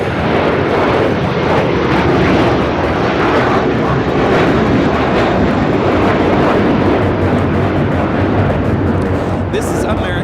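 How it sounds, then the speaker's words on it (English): At Los Angeles International Airport, an American Airlines Airbus A321 powers up for takeoff with a dense, continuous jet roar that stays loud for the whole stretch, overlaid by ongoing conversation. "This is American Airlines 1024 taking off to Orlando, Florida on the A321."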